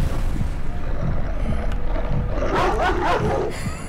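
The dog Jonesy barking in the video game Layers of Dogs, loud close barks and a growly roar over a rumbling game background, a cluster of harsh bursts building toward the end.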